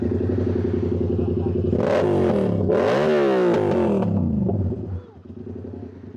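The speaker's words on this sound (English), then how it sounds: "I was saying my exhaust is kind of loud" Yamaha R7 motorcycle with a loud, baffle-less exhaust revving up twice in quick succession, rising and falling, close and loud, then settling to a low idle rumble.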